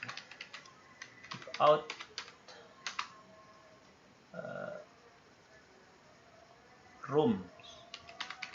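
Computer keyboard keys clatter in quick close bursts as a search is typed into Google, with pauses between the runs and brief speech coming in now and then.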